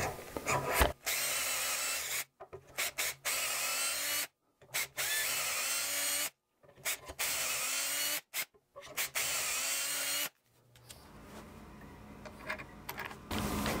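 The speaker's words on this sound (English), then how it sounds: "And I'm going to drill all 5 dowel holes" A power drill bores five dowel holes into wood held in a Dowelmax doweling jig, in repeated loud bursts of whirring and grinding broken by short pauses, ending in quieter handling noise.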